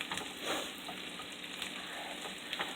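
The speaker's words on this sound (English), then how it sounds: "And you're just going to saute them until they get nice and translucent." Onions sautéing in bacon fat and butter for a keto French rolled omelette, a soft, even sizzle that stays quiet and steady throughout, with no one speaking.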